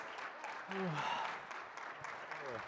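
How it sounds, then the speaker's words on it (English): Audience claps for students at an internship program session, moderate continuous applause with a voice speaking over it partway through. "could you all please give the studs a round of applause?"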